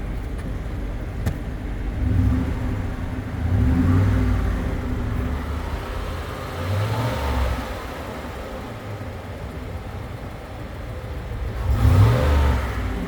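A 2007 Chevy Impala SS V8 with a slight tick and 598,000 miles runs on a test drive, its engine droning and swelling in gentle revs under steady road noise, the tick itself not distinct.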